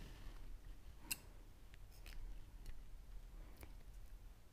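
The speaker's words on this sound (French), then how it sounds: "On va couper le fil." One faint, crisp scissor snip cuts knitting yarn while finishing a knitted baby pacifier clip, followed by a few soft, quiet ticks in a hushed room.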